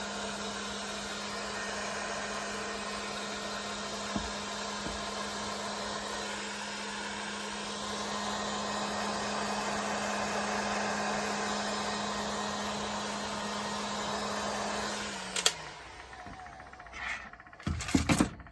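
A heat gun blows with a steady, even whir for about fifteen seconds while heating epoxy on a tumbler, then switches off, leaving a few light knocks and handling clatter.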